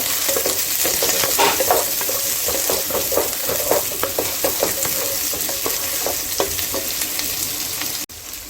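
Squid gravy ingredients fry in hot oil in a pan, a constant loud sizzle broken by a run of stirring scrapes and clicks, with no voices.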